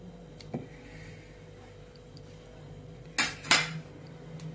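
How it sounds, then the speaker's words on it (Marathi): A knife cuts kapnya dough pieces on a board, giving a single soft tap early on and then two sharp, close knocks near the end against a quiet kitchen background. "आता आपण कापण्या कापून घेऊया."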